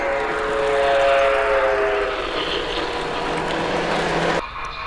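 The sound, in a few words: model trains running on museum layout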